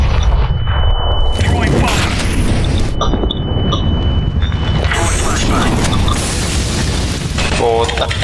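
A grenade detonates on the Mirage map in a tactical shooter game, a loud booming blast amid constant gunfire and game noise, with players talking over it throughout.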